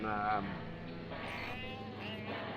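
Sheep bleating in the Farming Simulator 17 video game, a short wavering bleat at the start and fainter bleats after, heard beneath someone talking.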